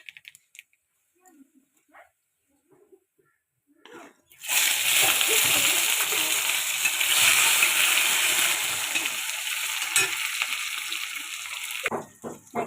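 Nigella seeds crackle and sizzle in hot oil in a home kitchen, a loud steady hiss rising suddenly and running for several seconds, after quiet moments of faint handling clicks, then cutting off abruptly.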